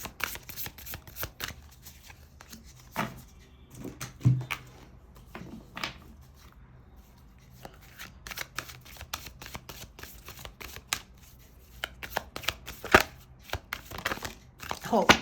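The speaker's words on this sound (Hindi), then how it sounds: "फटाफट आपके लिए एक और कार्ड पुल करें और उसके साथ साथ हम आपके लिए की कार्ड भी पुल करेंगे" Tarot cards being shuffled and pulled from the deck in a money-themed reading, with bursts of riffling and soft card slaps coming in clusters, close to the microphone, while a voice talks faintly at times.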